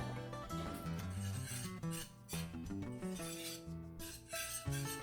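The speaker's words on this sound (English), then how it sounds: "And I'm going to whisk this up a little bit." A whisk rasping and clinking in a pan of thickening cheese sauce for a cauliflower casserole, steady scraping strokes up close, with music playing underneath.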